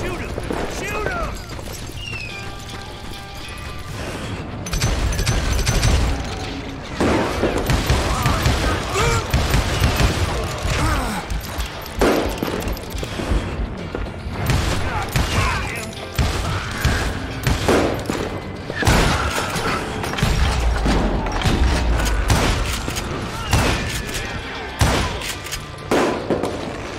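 Rapid gunfire and booming shots fill a Wild West shootout in Call of Juarez: Gunslinger, loud and dense, with bursts running through most of the stretch while voices shout over the action.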